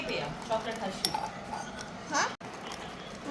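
A spoon scrapes and clinks against a bowl while Oreo ice cream is mixed, a few soft metallic taps and stirs heard at moderate distance, with voices talking in the background.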